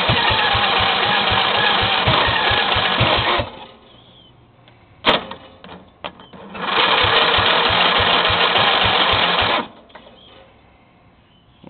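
A hard-cranking engine turns over on its starter during a cold start, with the starter hit directly because of a failed solenoid: two loud, rapid, pulsing cranking runs of about three seconds each, separated by a quieter pause with clicks.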